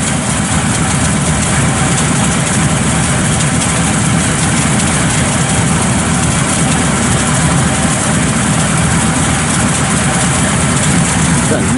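A 1965 Chevrolet Chevelle Malibu's 383 V8 with a lumpy camshaft idles steadily and loudly throughout, with a deep, lumpy low-end rumble and no pauses.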